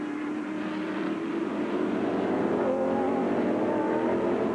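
Grand Am race cars at Mid-Ohio roar past in a steady, loud engine drone that swells slightly through the stretch, with no voices over it.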